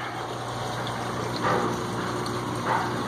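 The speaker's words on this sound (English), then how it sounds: "This is where the water comes into the sump. As you can see, I've got some good aeration, bubbles" Water pours into an aquarium sump with bubbling aeration, a steady gushing and fizzing flow under a low pump hum, with soft splashing swells.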